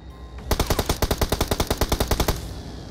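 Shooter video game gunfire: a loud, close burst of rapid, evenly paced automatic shots, about twenty in under two seconds, with a steady game background before and after.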